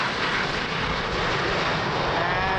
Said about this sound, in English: An EasyJet, Airbus